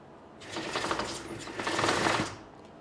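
The electric motor of a custom Power Wheels tank with tracks whirs in low-power mode with the throttle barely pressed, a brief buzzing whine that swells twice over about two seconds.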